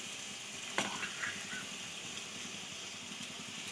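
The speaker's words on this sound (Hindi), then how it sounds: "तो सारा मैरिनेट किया हुआ चिकन का मिक्सचर इसमें डाल देंगे और मीडियम फ्लेम पे इसको अच्छे से फ्राई कर लेंगे।" Marinated chicken mixture frying in hot oil in a pan over a medium flame, a soft, steady sizzle with one brief clatter near the start, heard close with no talk.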